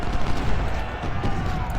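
Massed artillery batteries firing in a Civil War battle at Malvern Hill, a dense, continuous rumble of overlapping cannon and gunfire booms at moderate distance with no distinct gaps.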